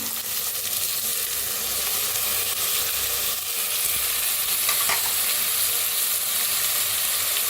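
Soaked moth beans and lentils roasting in a pan, a steady dry sizzle and frying hiss with occasional stirring scrapes, continuous and close, no voices.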